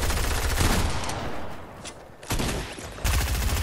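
Dense bursts of rapid automatic gunfire in a shooter video game, loud and close, crackling almost continuously with brief dips between volleys.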